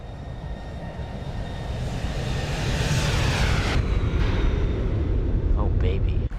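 Roaring jet engine of a Zibo Boeing 737-800 passing in a low flyby in X-Plane 11, swelling loud and broad over several seconds and cutting off abruptly at the end.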